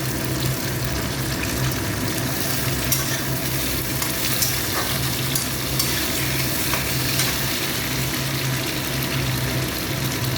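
Chopped tomatoes fry with onions in a pan, giving a loud, steady, close sizzle with bubbling and crackling throughout.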